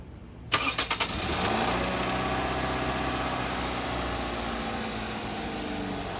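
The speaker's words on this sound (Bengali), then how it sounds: "তো এই যে আপনার ইঞ্জিনের সাউন্ড" A 2013 Toyota Corolla engine cranks and catches, then settles into a steady, close idle with a low, even hum and no voices over it.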